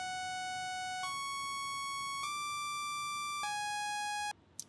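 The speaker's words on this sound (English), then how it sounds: "So here's the melody, a plain saw wave." A plain saw wave synth plays a simple melody of four sustained notes, each bright and buzzy with dense harmonics, stepping in pitch at regular intervals before cutting off abruptly.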